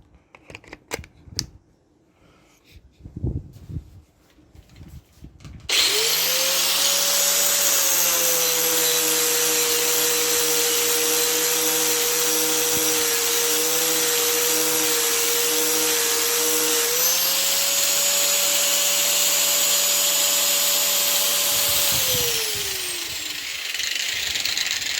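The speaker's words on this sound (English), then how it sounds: "Just grinding along that edge with a angle grinder." Angle grinder held against the edge of a wooden deck being prepped, a loud steady whine that starts abruptly, holds for most of the stretch with a slight pitch shift, then winds down, close and alone.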